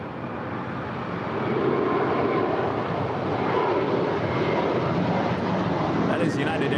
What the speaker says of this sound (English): That is United Airlines Flight 1076 coming in from Newark in a 787-10 Dreamliner.